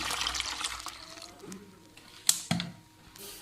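Water pours into a pot of homemade herbal shampoo mixture, a splashing gurgle with a few sharper splashes, fairly faint against quiet background.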